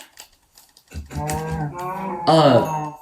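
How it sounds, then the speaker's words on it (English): A Minecraft cow gives a loud, drawn-out moo with a rising and falling tone, close and clear, following a brief quiet start. "That's a cow."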